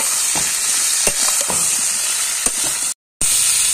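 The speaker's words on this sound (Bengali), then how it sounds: "আলু পটলগুলো লাল লাল করে ভাজা হয়ে গেছে" Potato and pointed gourd pieces with turmeric fry loudly in a wok on a village clay stove, giving a steady close sizzle with occasional stirring scrapes and a brief cut near the end.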